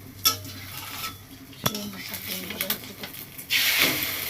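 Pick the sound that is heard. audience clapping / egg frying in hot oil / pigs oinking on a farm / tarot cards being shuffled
egg frying in hot oil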